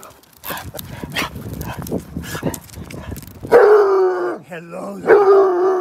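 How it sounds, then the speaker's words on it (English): Several dogs being walked bark, howl and whimper at another dog outdoors, loud and close, in a run of excited overlapping calls with rising howl-like tones near the end; a person talks among them. "they love to bark when there's another dog"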